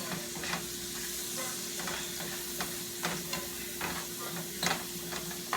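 Onions sauté in a pan for a soul food hamburger steak dinner, a steady soft sizzle broken by light, irregular stirring scrapes, with a faint background hum and no voices.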